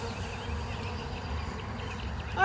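Honeybees in a newly installed package hive keep up a steady, even buzzing drone, moderately close, with a brief louder rustle at the very end and no talk.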